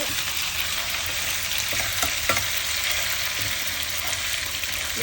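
Ginger and garlic fry in a pan for a Kerala-style mutton roast, producing a continuous loud hissing sizzle with a couple of faint stirring taps midway.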